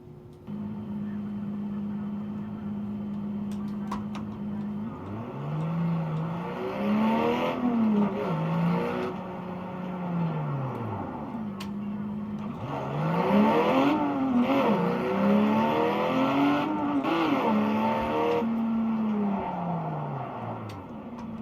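Race car engines from the Project Cars video game on PS4 rev and climb through repeated gear changes, with rising pitches that sweep up and drop back in a steady driving rhythm, moderately loud and without talk.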